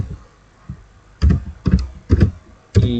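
Short bursts of keystrokes on a computer keyboard, four clustered clicks separated by pauses, close and clear over quiet room tone, entering a formula into statistics software.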